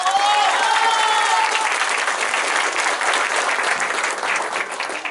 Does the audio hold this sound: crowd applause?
yes